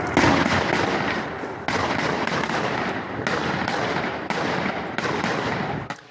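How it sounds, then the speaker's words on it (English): Dense, continuous crackling bursts of rapid shots with sharp onsets recurring every second or so, loud and close, with no voices. "despite all that gunfire"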